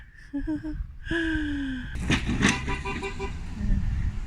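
A water truck drives past on a rural road, its horn tooting in sliding tones before a broad rush of engine and road noise swells and stays loud.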